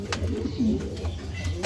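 A high-flying pigeon coos once, close and clear, a short low warbling call rising over faint background hum and scattered clicks, with no one talking.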